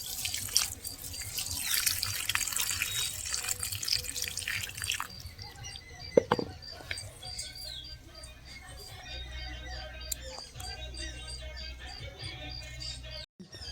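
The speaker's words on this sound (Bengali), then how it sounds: "এখন আমি এর গোড়াতে একটু জল দিয়ে দেব।" Water splashes and trickles steadily at the base of potted marigold plants, a continuous close pouring sound that fades to lighter drips.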